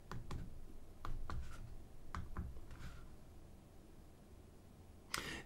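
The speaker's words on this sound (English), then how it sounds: "we can just start typing away on it" Typing on a tiny USB keyboard attached to a miniature Apple II emulator computer: a few sparse, quiet keystroke clicks spread over several seconds, with a sharper click near the end, against a faint background hiss.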